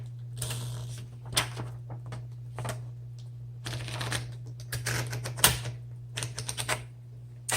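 Irregular bursts of typing on a 1958 Smith Corona electric typewriter, keys clacking with mechanical clunks and ratcheting, over a steady electric hum.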